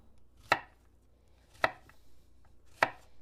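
Three sharp knife chops through zucchini on a cutting board, spaced about a second apart, close and distinct against a quiet background.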